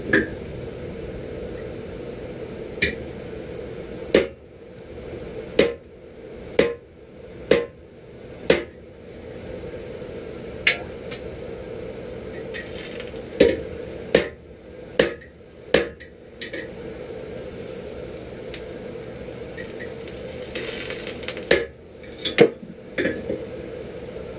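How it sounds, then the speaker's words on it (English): A blacksmith hammers a punch through a forge weld in hot iron, sharp metallic strikes landing in irregular clusters with pauses between, ringing over a steady low forge roar. "one of the tests that I like to do for just teaching this kind of stuff is to punch a hole in it, okay, right in that weld"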